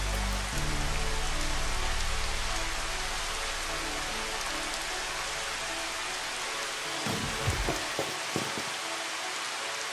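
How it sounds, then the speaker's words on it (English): Steady rain from the Final Fantasy XV Platinum Demo game falls at night over a lit city, a dense constant hiss on surfaces with a few louder drops and thuds near the end. "let's try rain. Rain is really nice."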